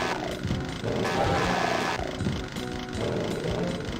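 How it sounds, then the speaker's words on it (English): A chainsaw revs in DOOM on the Nintendo Switch as a continuous grinding, rattling mechanical drone, loud and steady throughout with slight surges in intensity, mixed with game noise. "I'm gonna have to pull out the chainsaw for this one"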